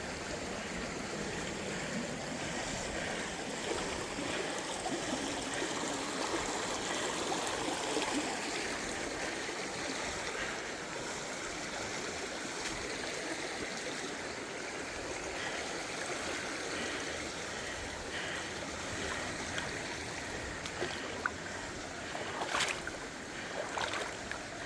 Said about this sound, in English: The water's picking up pace up here.